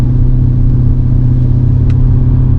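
A BMW E38 740i L with a V8 in sport mode holds a loud, steady engine drone as it pulls away, the rumble constant throughout with no voices.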